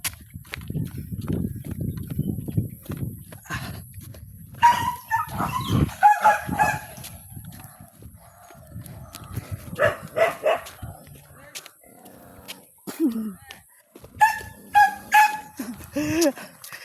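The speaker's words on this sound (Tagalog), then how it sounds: "Nag-aaway po yung mga aso mga kaluwet." Dogs bark and snarl in short, irregular bursts during a scuffle in a rural setting, some barks near and loud, others fainter, mixed with rustling and with people talking at intervals.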